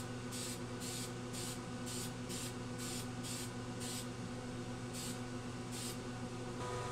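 Short repeated bursts of spray paint hiss onto an R2-D2 dome being coated in pearl blue over silver, about a dozen evenly paced puffs close by over a steady background hum, with no talking.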